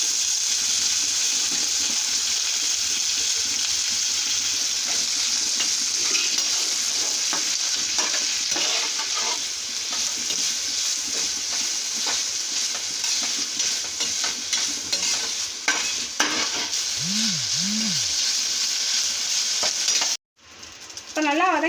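Dried anchovies sautéing in two spoons of oil in a pan, a steady close sizzle with scattered stirring scrapes, ending with a sudden cut and brief water sounds.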